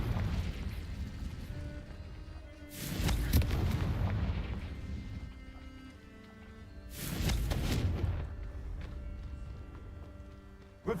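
Blasting-spell explosions in the Hogwarts Legacy game, two deep booming bursts a few seconds apart, each swelling and rumbling away over a low game backdrop.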